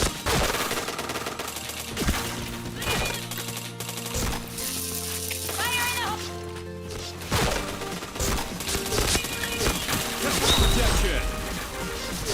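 Rapid gunfire in the PointBlank shooter game, dense bursts of automatic shots and clattering impacts over game music and effects, loud and continuous, with a player talking throughout.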